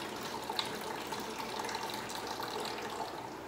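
Water pours and gushes steadily during an aquarium water change in a home fish room, a continuous close splashing fill with no talking.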